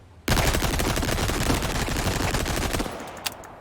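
Rapid automatic gunfire from Ada's DLC weapon in Resident Evil 4 Remake, a dense unbroken burst that starts abruptly and runs nearly three seconds before cutting off, followed by a couple of faint clicks.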